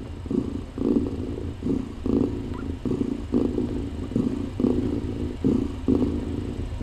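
Kittens purr softly and steadily in a regular rhythm, close up, with a low rumbling texture and no voices.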